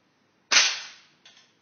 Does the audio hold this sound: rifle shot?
yes